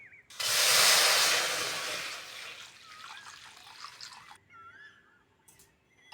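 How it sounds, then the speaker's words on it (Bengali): Water poured from above into a wok to boil eggs and potatoes in a village kitchen: a loud rushing splash that tapers into a softer trickle and drips, followed by quiet. "ডিম আলু সিদ্ধর জন্য কড়ার মধ্যে জল দিয়ে দেবো"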